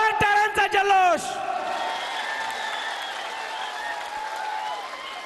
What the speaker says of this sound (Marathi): एकदा जोरदार टाळ्यांचा जल्लोष